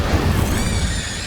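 Incendio fire spell cast in the video game Hogwarts Legacy, a loud, dense burst of roaring flame with a heavy low rumble that holds steady for over a second, no voices.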